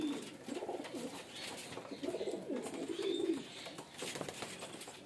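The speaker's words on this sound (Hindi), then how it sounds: "ये एक और कबूतर है" Male fancy pigeons kept as a hobby in Chhabra, Rajasthan, cooing softly in repeated rolling phrases, fairly close, with faint background chirps and no talk.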